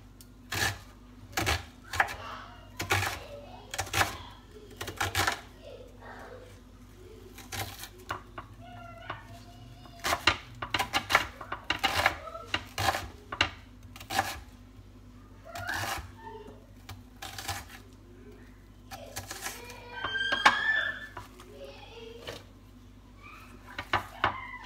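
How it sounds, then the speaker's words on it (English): A knife dicing half an onion on a cutting board while cooking a turkey meatloaf, giving a steady series of sharp, close chopping taps in uneven bursts. "So I'm gonna go ahead and just dice up about half of an onion right here."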